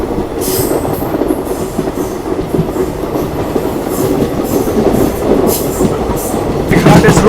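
A long-distance passenger train rolls along the railway track just after leaving a tunnel, with loud rumbling, rhythmic clatter of wheels and occasional squeals, close and continuous.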